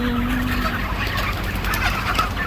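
Broiler chickens clucking in a busy flock, with overlapping close clucks and soft calls over a steady background hum.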